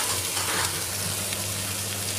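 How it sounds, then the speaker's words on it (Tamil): Bitter gourd poriyal sautéing in a pan with tomato puree, giving a dense, continuous close sizzle with a faint stirring texture and no voices. "இப்போ எல்லாம் நல்லா வதங்கிட்டுருக்கு"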